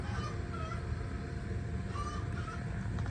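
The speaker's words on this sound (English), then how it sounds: "You hear the chickens in the background already." Chickens clucking in the background of an outdoor driveway where stainless steel exhaust pipes are being TIG welded, a few short calls over a steady low rumble.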